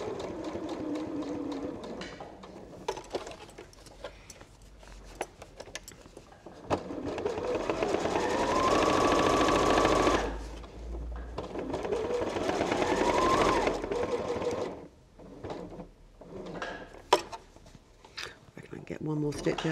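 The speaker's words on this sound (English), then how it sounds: "we'll sew up as far as the side seam, do a couple of stitches past the side seam" A domestic sewing machine runs in two sustained bursts, stitching the seam of a lined fabric pouch up past the side seam, with a voice talking during the quieter stretches around the stitching.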